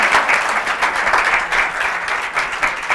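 Audience applause, a dense, steady burst of many hands clapping together at close range, with no voices over it.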